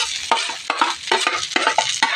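Cooked rice is stirred and tossed into a pan of sardines and egg frying in oil. Sharp, repeated scraping strokes land roughly every half second over a steady, close sizzle.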